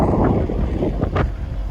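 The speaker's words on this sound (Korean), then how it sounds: "지금 바람 소리 혹시 들리시나요?" Strong gusting wind buffets the microphone at Jindo ferry port on an overcast day, a loud continuous rumbling roar with no talk.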